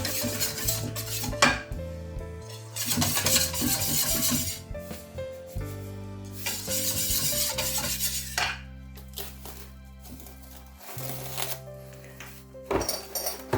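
A utensil scrapes and clinks around a bowl in repeated stirring strokes, mixing batter for steamed apem cakes, with a steady background hum.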